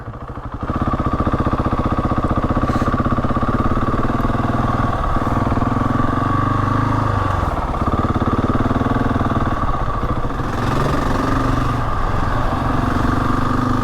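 A Husqvarna 701 Enduro motorcycle engine while riding, with a loud, steady single-cylinder drone that shifts pitch slightly as the throttle changes.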